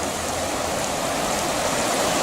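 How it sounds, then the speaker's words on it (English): A waterfall on the Lagan River in a park at the edge of Dromore, County Down, Northern Ireland, gives a steady, loud, close rushing roar of falling water with no voices over it. "the Lagon River and the waterfall just on the edge of the town in the park"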